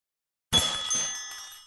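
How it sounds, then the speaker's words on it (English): Shop door chimes in an antique shop video game ring once, a bright metallic jingle that strikes suddenly after silence and shimmers as it fades. "The door chimes rang as someone, clad in protective gear, once again entered the store."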